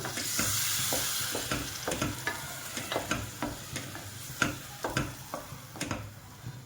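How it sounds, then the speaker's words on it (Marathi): Ground spinach paste is worked into egg curry in a pan, with repeated scraping strokes of a spoon and a soft sizzle beneath, the stirring coming in an uneven rhythm. "आता हे आपलं वाटलेला पालक टाकूया याच्यामध्ये. चांगलं मिक्स करून घ्यायचं याला."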